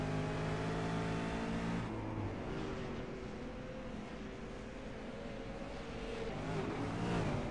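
V8 Supercars race at Bathurst, loud engines revving and shifting as cars roar past one after another, rising and falling in pitch with continuous close engine noise.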